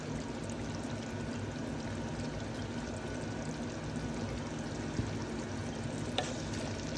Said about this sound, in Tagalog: Pagkalagay natin ng peppers, hahaluin lang ng konti.